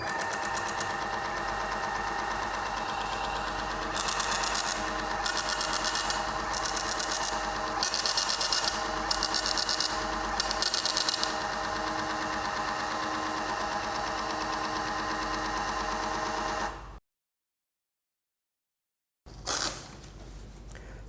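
A WH-T2 thermal label printer linked to a weighing scale prints in about six short, whirring bursts over a steady electrical hum. It then goes silent and ends with one more brief burst.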